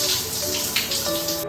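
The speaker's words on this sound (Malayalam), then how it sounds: "ഒരു ക്വിക്ക് ഷവർ എടുത്തു" A quick shower runs in a home bathroom, a steady broadband hiss of falling water lasting throughout and cutting off abruptly at the very end, with no talking.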